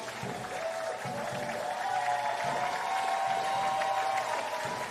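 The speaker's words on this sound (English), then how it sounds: "Let's give the players a big applause." A crowd at a European Championship powerchair football playoff between the Netherlands and Denmark claps for the Danish players. The applause is moderate and somewhat distant, heard over steady arena background noise.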